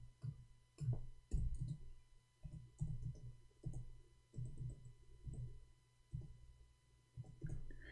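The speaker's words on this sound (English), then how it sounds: "I'm typing in English, sorry." Someone types on a computer keyboard, making faint, irregular clusters of soft clicks with short pauses between bursts.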